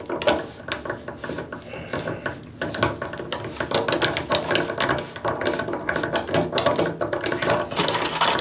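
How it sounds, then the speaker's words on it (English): Threaded sections of a tub drain pipe being screwed together by hand during a drain replacement, giving a steady run of close, scraping and ratcheting metallic clicks with no talk. "now I'm screwing two pieces of pipe together"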